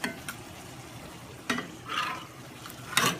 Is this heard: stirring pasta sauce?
yes